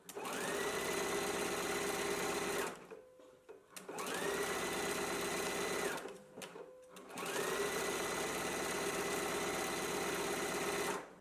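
Sewing machine stitching a 5/8 inch seam to attach a lower band on a sleeve, running in three long steady bursts with short pauses between, close and loud.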